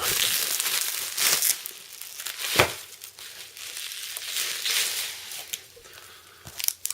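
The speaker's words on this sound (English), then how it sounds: "Take my handy dandy scissors, and here we go." Scissors cut through a crinkly Lord of the Rings trading card pack wrapper, giving steady close crumpling and crackling with a few sharper snips.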